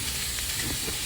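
Milkfish (bangus) sizzles in hot oil in a pan, a steady close hiss of frying with no break and no talk.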